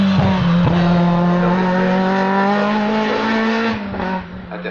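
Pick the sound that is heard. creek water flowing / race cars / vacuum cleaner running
race cars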